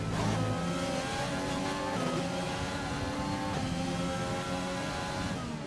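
Formula 1 race car engines roar loudly and continuously in an Xbox racing game at Silverstone on the approach to Stowe, a steady high-revving whine with shifting pitch as the cars run close together.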